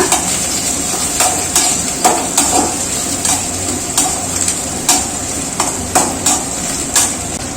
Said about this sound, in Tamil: பச்சை மிளகா கருவேப்பிலை மல்லித்தலை போட்டுக்கலாம் வதங்கட்டுங்க